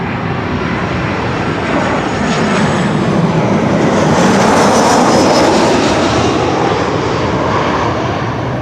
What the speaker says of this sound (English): Qantas 6131 coming in from Sydney